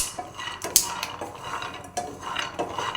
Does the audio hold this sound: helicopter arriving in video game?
no